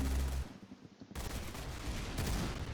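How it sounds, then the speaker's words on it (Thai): Dense, continuous gunfire from guns in a Roblox shooting game, a loud, rapid fusillade of overlapping shots filling the whole stretch without pause. "โอ้โหปืนกล้วยยิงกันดีจริง"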